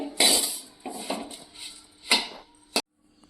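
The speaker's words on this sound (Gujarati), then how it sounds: "આપણે લોખંડની મોટી કઢાઈ લીધી છે" A large iron kadhai is shifted and set down for making amla hair oil, its metal rim giving close, ringing clanks and scrapes in an uneven series that ends with one sharp knock.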